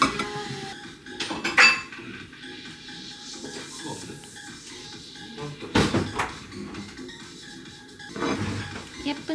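A knife cutting a birthday cake in half on a plate, making a few soft clinks and scrapes against the dish spread over several seconds amid quiet room noise.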